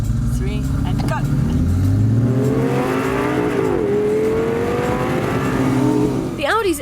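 An Audi R8 Spyder launches hard from a standing race start, its engine note rising steadily as it pulls away, loud and close, with a few voices talking over it near the start and end.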